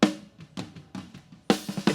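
Snare drum in a worship band mix with the bottom snare mic muted, a series of sharp hits with short decays, played alone without talk.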